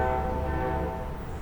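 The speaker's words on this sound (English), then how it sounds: "Hear the train?" A passing train gives a steady, loud rumble with a sustained horn-like tonal drone that holds for the whole stretch, heard alone without talk.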